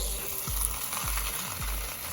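Water runs steadily into a container from a tap for Kraft mac and cheese, a continuous hissing pour with a few gurgling bumps, close and alone.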